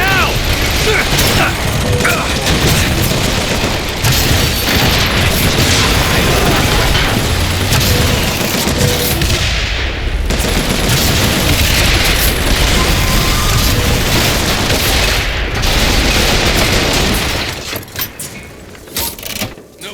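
Rapid mechanical gunfire from a turret in BioShock Infinite, a dense, loud, continuous clatter of shots and combat noise lasting almost the whole stretch before cutting off near the end.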